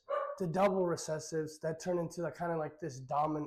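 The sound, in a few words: dog barking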